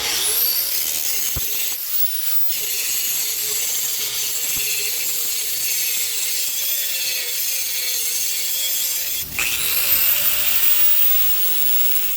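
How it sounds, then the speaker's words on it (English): A steady, loud abrasive grinding whine of scale being ground off a steel piece, continuing almost without pause, with a brief dip and a slight change in pitch. "Time to grind off all this scale, chop off the piece I'm going to use"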